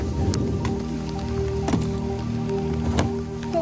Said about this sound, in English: It is pouring rain outside, just like torrential downpour.